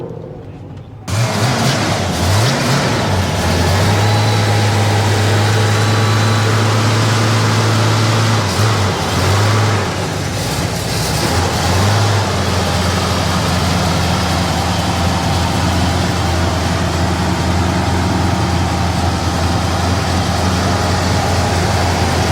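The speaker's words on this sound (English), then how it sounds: "I want to see these engines turned on and see which one's louder" Original Pontiac 400 V8 engines run at a Pontiac car show in Pigeon Forge, Tennessee: a close, loud, steady idle with a deep low rumble throughout, a distinct tone dipping and swelling at revs, and faint crowd sounds behind.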